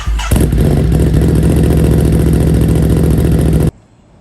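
A 2022 Ducati Monster engine running close and loud, a steady throbbing idle that starts abruptly and cuts off after a few seconds.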